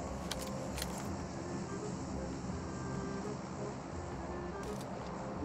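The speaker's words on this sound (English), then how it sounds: "I'm summoning a vehicle." A summoned vehicle in PUBG Mobile drives with a steady engine drone and road rumble, loud and continuous throughout, with a few brief sharp metallic clicks near the start and end.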